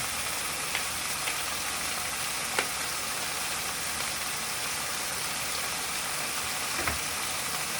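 Shrimp sizzle steadily in a hot pan with a continuous hiss, broken by a few light clinks from stirring, heard close and without talk.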